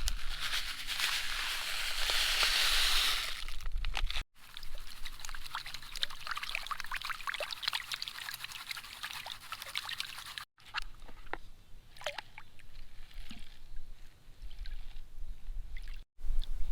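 Pay dirt is panned for gold in water at Rancheria: loud swishing and sloshing as the pan swirls, then softer trickles and splashes with a few short breaks, close to the listener and with no talking.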